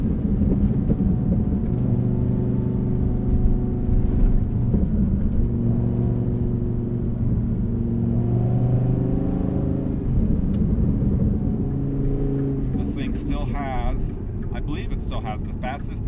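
Dodge Viper ACR with the Extreme Aero Package, its engine running steadily with a low rumble and rising, falling tonal whine, ending in lighter sounds.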